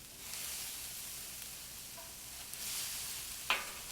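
Meat sizzles in a pan with softened vegetables. A faint, steady frying hiss runs throughout, and a brief clink of stirring comes near the end.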